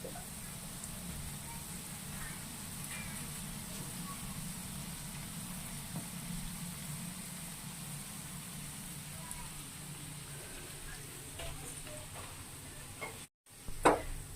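Sliced bitter gourd frying in hot oil with gravy in a pan: a steady, soft sizzle and crackle that continues throughout, with a few louder pops and scrapes near the end.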